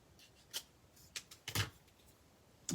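Craft snips cutting along a line on a paper craft project, heard as a few short, crisp snipping clicks spaced apart and fairly quiet, with no talking.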